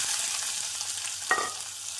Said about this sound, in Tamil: நாம் கடுகு, ஜீரகம் பொரியவும் நறுக்கிய வெங்காயத்தை சேர்த்து விடலாம்